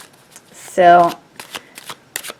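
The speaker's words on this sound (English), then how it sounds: "I did a bit of pre-shuffling is what I'm trying to say." Tarot cards are shuffled in a short, loud riffling burst close to the microphone, followed by softer card taps and handling while a person talks.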